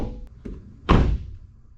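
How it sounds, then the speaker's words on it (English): A door on an off-road vehicle fitted and shut with one solid, heavy thunk after two faint light taps, close by against a quiet rumbling background. "I think I'm gonna put the doors on"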